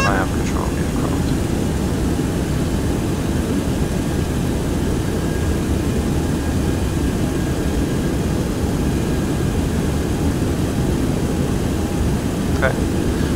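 A heavy airliner on final approach with gear down, flown by hand after the autopilot is disconnected: a steady, loud cockpit roar of engine and airflow noise with a faint brief tone, continuous throughout.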